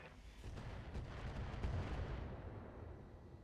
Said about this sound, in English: Couple of good hits with the missiles.